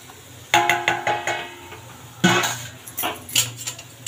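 A metal spoon stirs semolina in a pan, making a series of close clinks and scrapes against the pan in irregular bursts.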